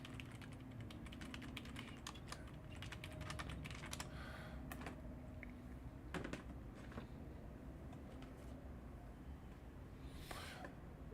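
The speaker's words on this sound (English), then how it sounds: "Let me type it in." Rapid clicking of computer keystrokes on a keyboard, steady and fairly close, continuing throughout with a quiet room hum beneath.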